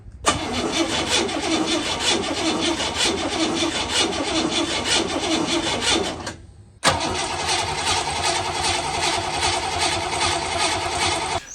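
A 1974 Leyland P76 V8 engine cranks on the starter in two long bursts: first a rough, uneven churning that stops, then after a short pause a smoother, steadier cranking, loud and close with no voices.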